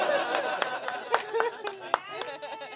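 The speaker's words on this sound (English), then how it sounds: "Let's give applause for Alex, by the way" At a stand-up comedy show in Los Angeles, the audience claps in scattered, separate slaps. Some land sharp and close, while chatter and chuckling voices run beneath them.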